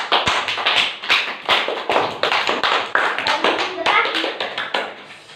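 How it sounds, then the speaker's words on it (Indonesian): Classmates clap for their peers after a class group presentation, a dense burst of many hands patting unevenly at close range, with children's voices chattering underneath. "Berikan aplaus untuk teman-temannya kalian."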